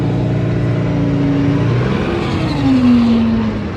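A car pulls away slowly and gently, its mid-pitched engine humming loud and close, then revving up smoothly partway through as it moves off.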